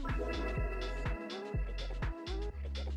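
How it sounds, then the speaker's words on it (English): A synth arpeggio resampled through grain delay gives floating, bubbly notes that patter in a quick rhythm over a sustained tonal bed and deep bass hits, fairly quiet and with no speech. "Then there's another ARP with grain delay."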